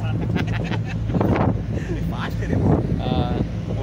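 A fast-moving ferry crossing at the Agardanda jetty on the Konkan coast churns along with strong wind buffeting the microphone, a loud steady rumble and roar with people talking over it.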